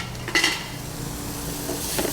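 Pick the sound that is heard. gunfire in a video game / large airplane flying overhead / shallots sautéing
shallots sautéing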